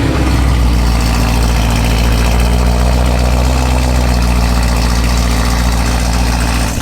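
BMW E92 M3 engine running loud and close, a deep steady grumble with a low rumbling idle throughout, no talk over it.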